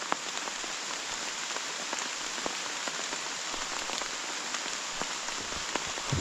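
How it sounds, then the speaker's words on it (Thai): Steady heavy rain pours down in a forest, a dense even hiss of drops striking leaves and ground with scattered sharper patters, continuous and close with no voices. "ฝนตกกระหึ่ม"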